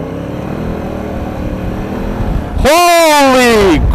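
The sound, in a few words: 2016 Honda Africa Twin motorcycle engine accelerating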